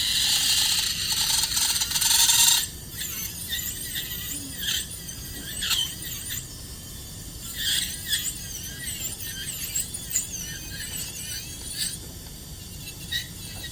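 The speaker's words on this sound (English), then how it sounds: "I've captured all the anatomic landmarks, and I'm trimming away the excess." A rotary dental lab tool trims excess material off a denture occlusal rim, giving a high, loud whine at first, then intermittent squealing bursts and grinding as it cuts in short passes.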